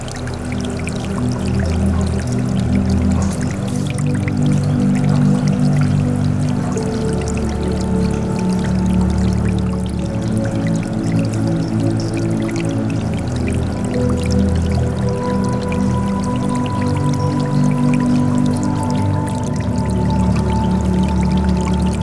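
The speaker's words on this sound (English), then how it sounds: "I have a hang on the back filter. It is a Seachem Tidal 55." A Seachem Tidal 55 hang-on-back aquarium filter in a fish room sends a steady, loud stream of water pouring back into the tank, a continuous splashing flow with a low hum and no talking.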